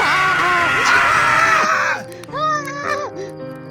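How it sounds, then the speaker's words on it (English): Kids and adults screaming together as background noise, a dense, loud wall of overlapping shrill voices that thins out halfway into a few sustained, wavering yells. "I need a background noise for all the kids and adults screaming"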